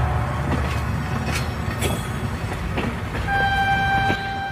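A cartoon sound effect of a train pulling into a station, with rhythmic clickety-clack wheel beats, a squeal of wheels and a sustained horn toward the end.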